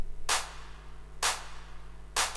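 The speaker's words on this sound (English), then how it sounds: "second clap" A second clap drum sample for a Melbourne Bounce track strikes three times at a regular pace, crisp bright snaps over a faint constant hum, each fading quickly.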